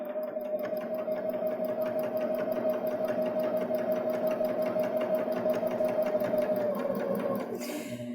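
A Baby Lock Jazz II sewing machine stitches a hem with its plain hemmer foot, giving a steady, close, rapid whirring run for about eight seconds before slowing at the end.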